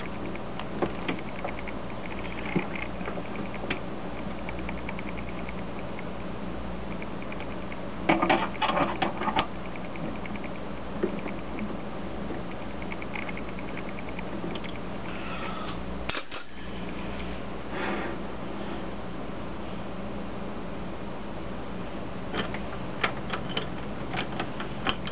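A jobber-length drill bit bores into a workpiece on a small lathe, giving a steady mechanical whir and hum that runs unbroken with occasional light clicks and rattles.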